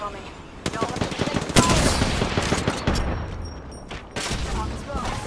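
Rapid automatic gunfire in Apex Legends arena combat, bursts of loud close shots starting and stopping in bursts over game noise, with a voice briefly speaking.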